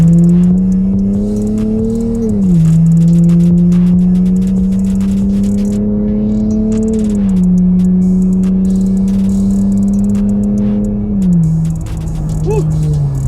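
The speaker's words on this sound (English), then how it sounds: "what I believe is the best sounding V6 300 on YouTube" A Chrysler 300S with a V6 engine revs in long sustained pulls that rise and fall, loud and close, with a few slight pitch dips between throttle changes and no speech over it.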